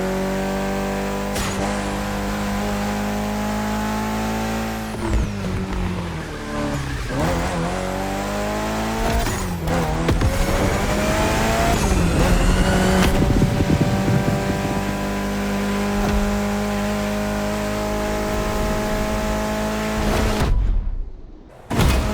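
Race cars in the video game The Crew Motorfest, loud engines revving and rising through gears with repeated shifts, tire squeals and skids, sustained close racing that cuts off abruptly near the end.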